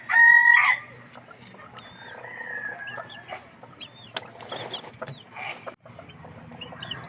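A backyard flock of chickens at feeding time: a rooster crows loudly and close at the start, then hens cluck and chatter steadily with scattered sharper calls for the rest.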